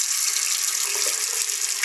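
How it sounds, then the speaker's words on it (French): Dirty water pours steadily from a shower tap, a constant loud hiss and splash with no pauses and no voices. "L'eau qui coule est dégueulasse, ça se voit."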